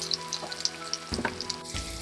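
Onions with ground masala and chilli powder are stir-fried in a pan, making a steady crackling sizzle broken by quick clinks and a burst of spatula scraping against the pan partway through.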